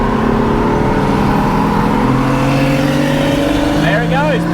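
A BMW F80 M3 accelerating and pulling away, its engine note climbing steadily through the gears as a loud, close roar, with a voice briefly talking over it near the end.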